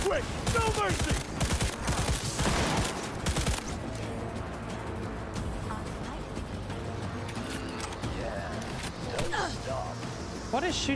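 Enemy gunfire in the video game Cyberpunk 2077, a heavy barrage of shots in the first few seconds that fades into sporadic fire under game sounds and voices.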